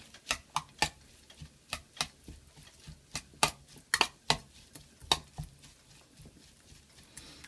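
Shredded carrot salad being tossed with salt, vinegar and sesame oil, producing a sparse series of sharp clicks and taps of utensils against a bowl, quiet and irregular with gaps between strikes.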